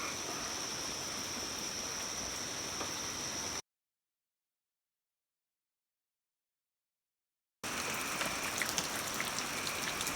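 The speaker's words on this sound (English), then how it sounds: "It's a light rain." Steady light rain patters continuously, broken by a few seconds of complete silence before the soft hiss resumes.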